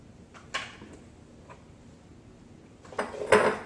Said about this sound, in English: I'll throw some ice in there because I like mine cold.